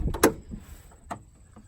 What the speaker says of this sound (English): And the doors all shut, nice and flush and solid.